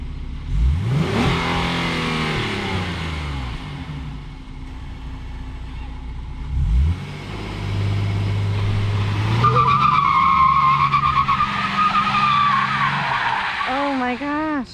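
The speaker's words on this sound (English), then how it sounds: "See if I can get the wheels to spin at all." A 2022 Kia Carnival minivan launching hard with tire wheelspin, the engine revving up and tires squealing loudly across the pavement in repeated surges, with people talking over the noise.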